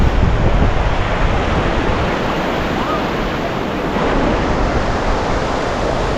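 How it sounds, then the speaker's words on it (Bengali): Steady, loud rush of cold sea wind buffeting the microphone at the seashore at Bakkhali, with surf blending into a constant broadband roar throughout. "অসাধারণ লাগছে সমুদ্রের হাওয়াটা আরও দুর্দান্ত লাগছে বেশ ঠান্ডা হাওয়া রয়েছে"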